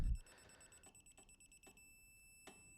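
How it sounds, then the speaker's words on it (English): Quiet, high-pitched electronic beeps from a digital torque wrench buzzer reaching torque, sounding in short repeated pulses at a slightly uneven pace over a faint steady hum. "You'll see the buzzer and the lights will go off when I get to torque."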